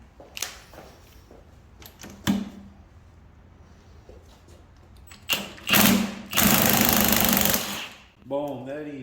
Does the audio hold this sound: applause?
no